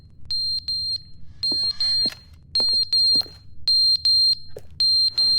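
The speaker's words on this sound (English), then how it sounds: "What fire alarm's going off?" Fire alarm in The Stanley Parable video game sounding loud and close in repeated groups of sharp, piercing high beeps with short gaps between bursts, alone without talk.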